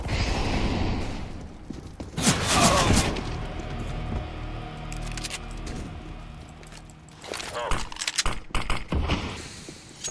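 A flashbang grenade in a first-person shooter game: a loud bright burst and crackle, then a ringing tail under game ambience and further sharp bursts later on, with no talking.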